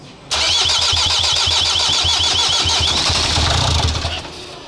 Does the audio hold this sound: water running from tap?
no